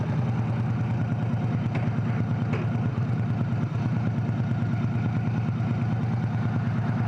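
Steady, low throbbing rumble from a Victory Cross Country Touring motorcycle's engine, close up and continuous, with an even pulsing beat and no speech over it.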